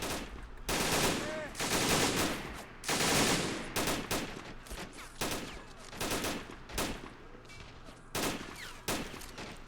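Machine gun fire rattles in a Men of War: Assault Squad 2 army men battle, with repeated loud bursts of rapid shots separated by short pauses and a busy background of gunfire.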